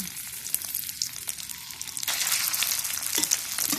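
Red curry paste frying in about three tablespoons of oil in a pan, a crackling sizzle that grows louder and denser halfway through, with no voice over it.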